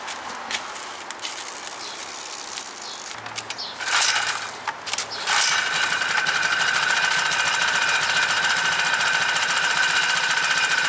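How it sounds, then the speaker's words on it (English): A small engine on a homemade motorized surfbike, a motorized bicycle and surfboard hybrid, is cranked over, fires up after a few seconds and settles into a steady, loud, buzzing idle with a high mechanical whine. "That is the easiest starting motor I've ever owned."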